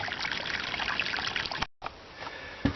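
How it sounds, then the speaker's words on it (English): Running water trickles and splashes steadily during off-grid outdoor dishwashing, close and continuous, then cuts out briefly before a quieter stretch resumes. "Off-grid dishwashing in nature."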